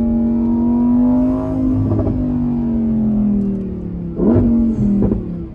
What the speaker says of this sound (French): On a le V10 juste derrière qui chante tellement fort.